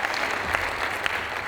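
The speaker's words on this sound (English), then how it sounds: "A round of applause." A city council inaugural ceremony crowd gives a round of applause, with steady dense clapping filling the room for the whole stretch without a break.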